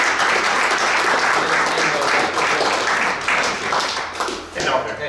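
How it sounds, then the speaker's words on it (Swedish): Audience applause honouring the Vasaloppet ski race, a full, loud round of sustained clapping from a crowd that holds steady and only slightly eases near the end. "En applåd för Vasaloppet."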